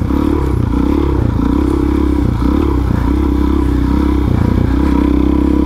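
A Suzuki DRZ400SM supermoto with about 19,000 miles rides over easy dirt terrain, its single-cylinder engine droning loud and close at a steady, pulsing throttle, with rattles and gravel crunch mixed in.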